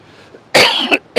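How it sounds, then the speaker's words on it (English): A single loud, harsh cough close to the microphone, preceded by faint background noise and trailing into a short second burst. "Right, you give me the cough now"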